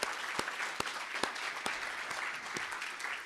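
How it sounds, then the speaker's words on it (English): Applause from a gathered audience at a closing-remarks event, a continuous textured patter of many hands with a few sharper individual claps standing out at irregular moments, moderately distant and fairly soft. "big round of applause."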